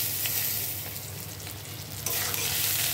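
Salt, turmeric and chili powder sautéing in a hot pan with oil, a steady close sizzle and stirring scrape throughout, growing slightly louder after a fresh stir near the end; no voices.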